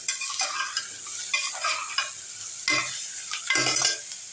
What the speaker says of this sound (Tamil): வதக்கிட்டு புடலங்காயும் போட்டு வதக்கிடணும்.